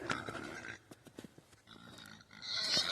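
Pigs on a farm grunt and snort in a quick irregular series close by, with other farmyard noise around them.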